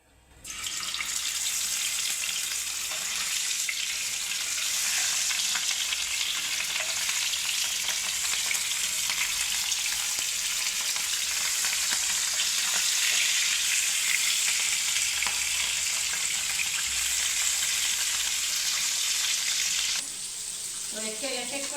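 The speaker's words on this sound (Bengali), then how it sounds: "তো এক এক করে মাছগুলো ভেজে নিচ্ছি" Katla fish pieces frying in hot oil for kalia, a loud, dense, unbroken sizzle that runs steadily for about twenty seconds before easing off.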